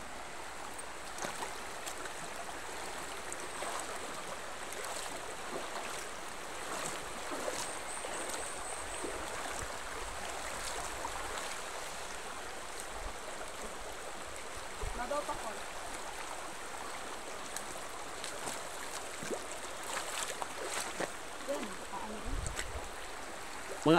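River flowing at Tugtugunan Falls in Davao del Sur, a steady broadband rush of water that runs for the whole stretch at moderate loudness, with faint voices and small splashes now and then underneath.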